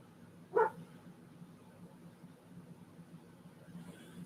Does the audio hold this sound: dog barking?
yes